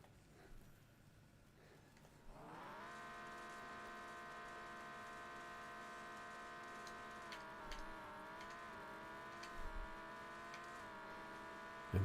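A car's engine in the drag racing game No Limit 2 starts quietly, then jumps to a loud steady high rev that holds with slight wavering and small gear-shift dips, a thump near the end.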